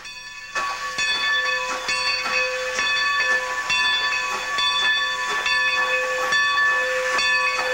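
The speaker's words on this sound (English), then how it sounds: "stopping at Black Horse Road for a few long blasts on the whistle" Steam locomotive whistle sounding at a road crossing, a series of loud, sustained blasts repeated over several seconds with a hissing, breathy edge.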